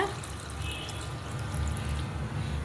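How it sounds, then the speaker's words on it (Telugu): Water is poured over semolina being rinsed for Rayalaseema-style idli, a soft running and splashing wash close by with a faint drip near the start. "ఇలాగా రెండుసార్లు కడిగేసుకొని నీళ్ళు పోసుకొని"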